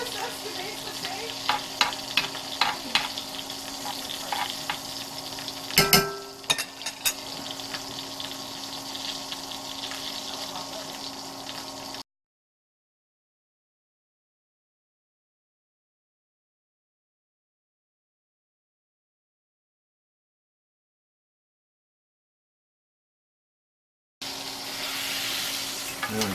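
A sous vide bison ribeye sizzles loudly in a tilted pan as it is basted, a close, steady crackle with spoon scrapes and clinks, then a long stretch of silence before the sizzle comes back.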